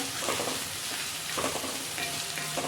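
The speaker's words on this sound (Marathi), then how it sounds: "आपण आता कांदा छान परतून घेऊया" Two chopped onions, cut large, sauté in a pan over a low flame with a steady frying sizzle and the occasional stirring scrape. The sound is close and even and runs throughout, with no talking.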